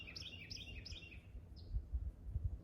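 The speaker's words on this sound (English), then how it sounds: "I am so thankful for some of these birds that have finally kind of moved back into the neighborhood" Small birds such as sparrows chirp in a neighborhood garden on a quiet, foggy morning: a quick run of bright repeated tweets, then one more call, fairly faint over low rumbling background noise.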